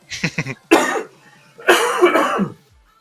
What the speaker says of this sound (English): my cough's getting worse the longer the podcast goes